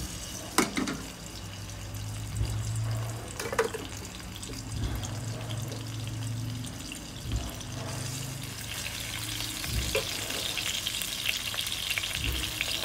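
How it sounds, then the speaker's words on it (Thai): Salted king mackerel frying in a pan with a shallow layer of oil, a steady close sizzle and crackle running throughout, with occasional clatters and scrapes from the pan. "เดี๋ยวเบสจะไปทอดปลาอินทรีย์เค็มก่อน"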